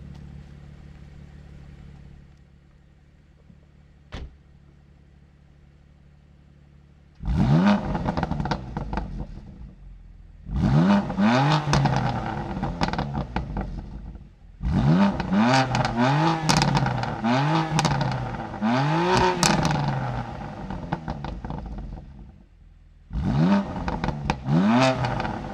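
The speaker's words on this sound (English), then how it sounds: "for some reason the exhaust sounds much better right now" A BMW M2 Competition's exhaust roars through several separate rev bursts, engine climbing and falling in pitch, loud and close, with idling gaps between.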